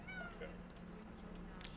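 A person imitates a cat's meow with a voice, giving two drawn-out vocal meows close to the mic over steady background hum.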